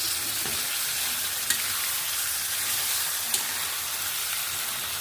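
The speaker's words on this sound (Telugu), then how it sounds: "ఇప్పుడు మనము ఈ ఫిష్లు ఈ ఆయిల్లో వేసుకోవాలి వీటిని కలుపుకోవాలి" Fish fry in oil in an iron kadai, a steady, fairly loud sizzling hiss with two brief sharp ticks partway through, no one speaking.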